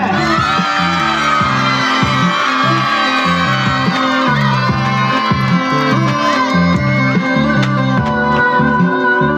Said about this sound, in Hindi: तमाम बच्चे तालियां और शोर किधर है?